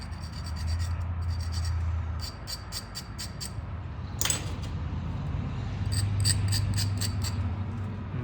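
A flint point has its edge lightly abraded in short repeated rubbing strokes, a soft close scratching rasp heard alone, with a brief sharper scrape midway.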